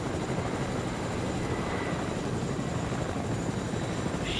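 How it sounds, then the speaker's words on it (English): Helicopter in a video game: a steady, loud rotor and engine drone that holds evenly throughout without pause, with no talk over it. "Yeah, it has to be the helicopter here."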